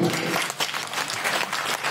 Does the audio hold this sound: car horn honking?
no